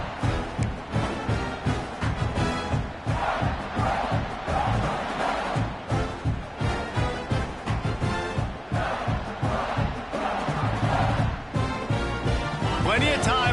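A football stadium crowd roars and cheers after a punt return, a dense, loud wall of voices rising in waves throughout.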